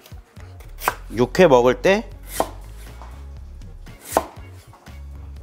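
A knife cuts squid into long strips on a cutting board while preparing a sweet and sour squid salad, with several distinct chopping knocks between stretches of talk.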